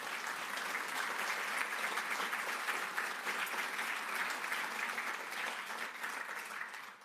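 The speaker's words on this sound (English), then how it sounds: "Let's have a round of applause for them." An audience at an actuarial annual meeting gives steady applause that holds at an even level throughout before tapering off at the end.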